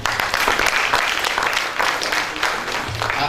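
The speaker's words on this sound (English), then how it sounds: "Let us have a big hand clap for those people who have been presenting." An audience at a national science innovation projects competition claps for the presenters, a dense, steady burst of applause that runs the whole time at close range.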